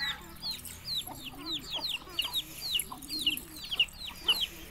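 Backyard chickens cluck and chirp softly in a quick, busy series while pecking at scattered grain, fairly close, with pigeons also feeding nearby and no one talking.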